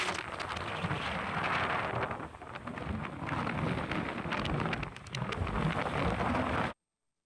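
Heavy rain from a strengthening cyclone, a dense, steady roar of downpour with gusty surges that dip briefly and return, continuous and loud without any voices.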